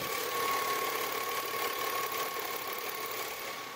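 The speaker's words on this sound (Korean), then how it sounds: "엔진 키로수 굉장히 짧기 때문에 정말 조용한 엔진 소음 만나보실 수가 있는데 엔진 소음 먼저 들려드리면은" A Hyundai Azera (Grandeur TG) export model with low mileage idles smoothly, its quiet, steady hum holding at an even level throughout with a faint constant tone and no other sounds.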